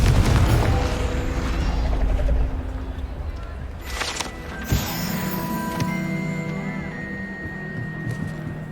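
Fiery spell blast from the Confringo curse in the Hogwarts Legacy video game: a loud rumbling burst opening the clip, then a sharp boom near the middle followed by ringing magical tones, with a brief spoken incantation.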